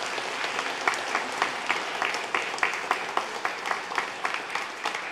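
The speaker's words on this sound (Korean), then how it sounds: "계속 박수 한번 계속해 주세요." A church congregation at a Sunday service applauds a new member's confirmation, steady clapping with a few sharper individual claps standing out, moderately loud and continuous throughout.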